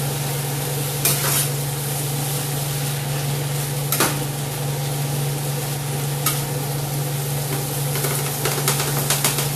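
Fajita filling sizzles and fries steadily in a pan while being stirred, with a constant frying hiss, a low steady hum beneath, and occasional scraping clicks from the stirring utensil; no talking.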